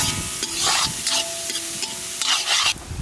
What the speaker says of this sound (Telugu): ఇప్పుడు ఉల్లిపాయలు వేసుకుందాం